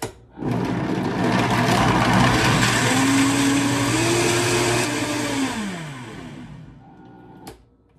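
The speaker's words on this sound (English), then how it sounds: "So I usually turn my blender on and then slowly put it to high speed." A blender making almond milk whirs loudly and continuously, its motor pitch climbing as it ramps up to high speed, then winding down and stopping with a final clunk.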